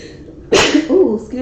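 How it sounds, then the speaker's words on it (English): A single sharp sneeze bursts out close and loud, a brief explosive hiss followed by a short voiced tail, with a person speaking just before and after. "I had to sneeze on that one."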